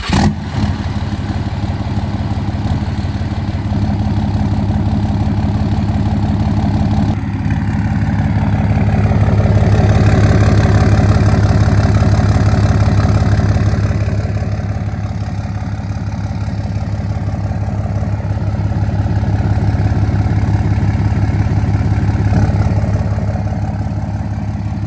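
Cummins diesel pickup truck with a 5-inch straight-pipe side-exit exhaust idling up close, a deep, steady rumbling drone that swells slightly in the middle and holds for about 25 seconds with no talking.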